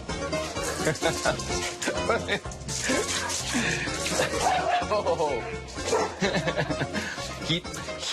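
A small dog on Mykonos yips and barks in quick, high bursts amid a busy, noisy scene with people talking nearby.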